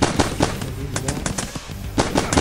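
Gunfire in the video game Battlelands Royale comes as quick sharp shots in short irregular bursts, fairly loud and close, with no talk.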